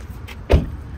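A delivery car pulling up nearby, a single low rumbling swell with a brief mechanical door or window whir just before, heard alone without talk.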